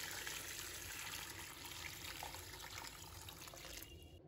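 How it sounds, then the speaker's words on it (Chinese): Clean tap water pours into a basin holding bitter melons, making a soft, continuous splashing stream that stays faint and steady until it stops near the end. "倒入清水"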